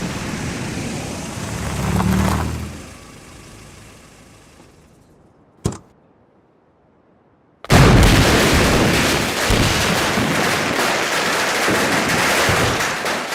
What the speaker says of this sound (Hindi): कौन उल्लू का पट्टा पटाखे चला रहा है?